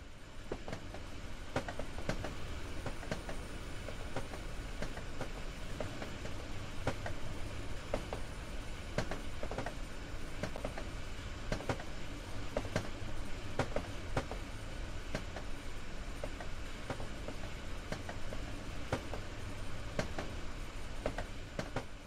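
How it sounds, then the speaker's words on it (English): Steady rumble of a BR422 electric multiple unit train in motion in Train Sim World 3, Rhein-Ruhr S-Bahn, with regular clickety-clack of wheels over rail joints and a faint high whine throughout. "You're currently riding a BR422 electric multiple unit."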